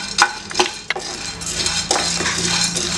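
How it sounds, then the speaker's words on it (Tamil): Already-roasted groundnuts are lightly dry-roasted in a pan for peanut balls: a few loud scraping clinks of a spoon against the pan, then a steady rattling shuffle and faint sizzle as the nuts are stirred. "இதை லேசாக இதையுமே நல்லா வறுத்துக்கலாம்."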